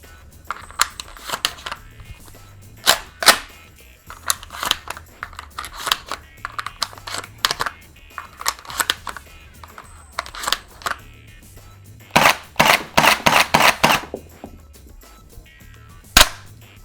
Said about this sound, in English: This is a semi-automatic electric blowback shell ejecting Nerf AEB based on the Beretta 1301.